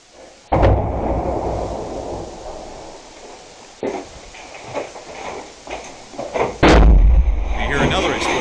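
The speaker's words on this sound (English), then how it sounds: "You hear another explosion close outside." Explosions go off close by in war footage, with a sharp blast at the start and a heavier, louder one later, plus smaller thuds between. A voice is faintly heard under the booms.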